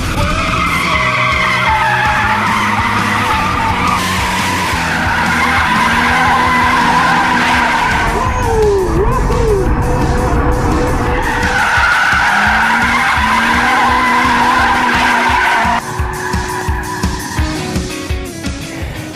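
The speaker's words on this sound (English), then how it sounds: "drop it down a couple of gears, and go drifting!" A car drifting with tires skidding and squealing loudly, paired with a roaring engine; long sustained screeches rise and fall over about twenty seconds, close and continuous.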